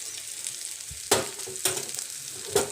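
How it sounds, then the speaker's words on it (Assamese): Moringa leaf fry with black pepper powder sizzling in a pan, a continuous close sizzle broken by three spatula scrapes and taps as it is mixed, with no talking. "আৰু এইখিনি এতিয়া মই ভালকৈ মিক্স কৰি দিম।"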